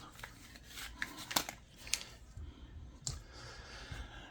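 Packaging for a Jinhao 9019 fountain pen is opened with faint, close crinkling, rustling and light clicks, irregular and quiet, without talk.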